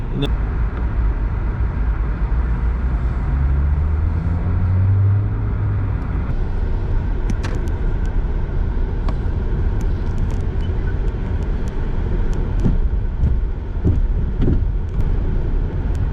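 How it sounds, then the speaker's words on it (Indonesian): Traffic on a city street in Malaysia during a COVID-19 lockdown, with a steady loud rumble of a bus driving past and some clatter, while a person speaks over it. "Tapi bus apa itu masih tetap jalan ya."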